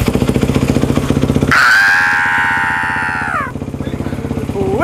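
A Predator Ghost 212cc engine on a mini bike putters rhythmically, then revs up sharply into a loud sustained whine before dropping back to a fast chugging idle, very close and loud.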